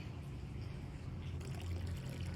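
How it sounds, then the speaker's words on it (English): Water runs steadily in a quiet indoor setting, a low continuous trickle with no voices over it. "I hear water running."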